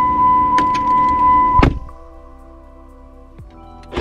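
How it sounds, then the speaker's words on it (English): A car's power door locks actuate with a sharp mechanical thunk, followed by a quiet electrical hum and a second softer clunk near the end, heard close up inside a parked vehicle with no talking. "All right, lock those doors."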